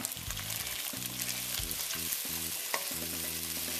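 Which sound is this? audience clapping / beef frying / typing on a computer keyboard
beef frying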